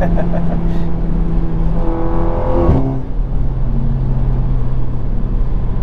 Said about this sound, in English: we're already starting out in the Audi on the highway, having some fun